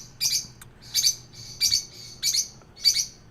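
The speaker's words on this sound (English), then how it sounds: "Two parrotlets. I have two pet parrotlets." Two pet parrotlets call back and forth in short, bright chirping bursts, five or six evenly spaced calls, fairly close over a quiet room.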